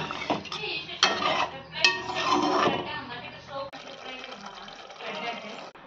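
Metal utensils clink and scrape against a pressure cooker holding stuffed brinjal curry, with a few sharp clatters near the start and ongoing stirring sounds afterward.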